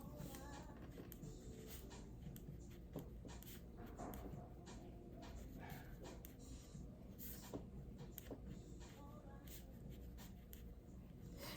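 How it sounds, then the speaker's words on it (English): Handwriting on paper, a faint, close scratching of a pen in short strokes and pauses over steady background noise, with no speech. "I have to write it down."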